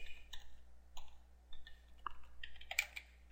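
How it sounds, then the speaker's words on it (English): A computer keyboard is typed on in a quiet room, with scattered, faint key clicks in short irregular bursts and no talking. "I'll type in free WordPress"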